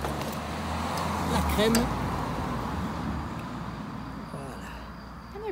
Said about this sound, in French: On entend passer les voitures.